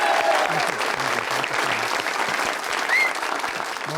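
A studio audience at an Eid special show claps steadily for a singer, a dense, even wash of applause with faint voices mixed in.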